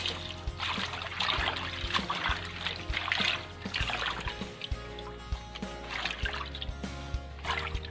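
Noni leaves being rinsed clean in water, with close splashing, trickling and dripping in uneven bursts alongside soft handling knocks.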